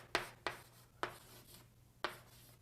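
A pen or marker writes out a calculus expression in four short scratchy strokes, close and fairly faint, with brief pauses between them.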